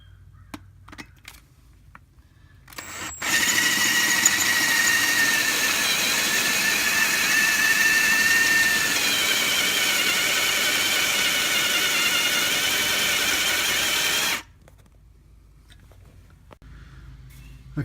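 A drill fitted with a freshly sharpened 5/16 bit bores a hole for a 1970 Corvette exhaust stud, producing a steady, loud, high grinding whine for about eleven seconds between quiet stretches.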